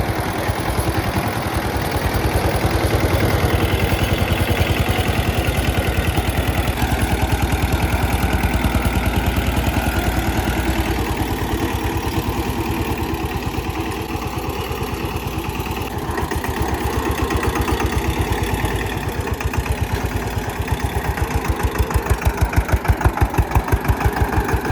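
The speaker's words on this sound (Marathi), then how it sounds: "यार जागीच फिरतो हा ट्रॅक्टर" Eicher 188 tractor engine idling, a steady rhythmic mid-pitched diesel chugging heard close and loud, continuous with slight rises in level toward the end.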